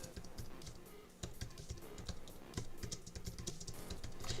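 Rapid, continuous typing on a computer keyboard, close and steady with dense overlapping key clacks and a few louder strokes, heard alone without talking.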